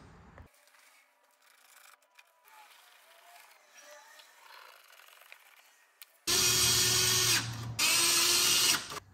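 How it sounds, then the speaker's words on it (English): A power tool drives bolts on a BMW K1200LT motorcycle in two loud, close bursts near the end, after a long stretch of quiet handling sounds and faint background noise. "we'll go around and tighten them all up"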